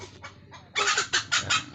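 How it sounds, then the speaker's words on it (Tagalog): A chicken clucks close by in a quick series of sharp, loud calls, with softer clucks just before them. "Ang ingay ng manok"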